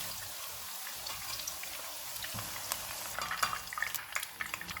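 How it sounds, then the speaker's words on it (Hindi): Okra (bhindi) fries in a pan over a medium flame with a soft, steady sizzle and some light stirring scrapes, quiet and close, with no talking. "भिंडी को मैंने 3 मिनट तक फ्राई किया है।"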